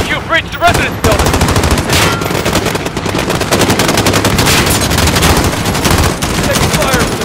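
Sustained automatic gunfire in Call of Duty: Modern Warfare (2019) during the Embassy mission, with loud rapid bursts from machine guns filling nearly the whole stretch after a brief opening pause.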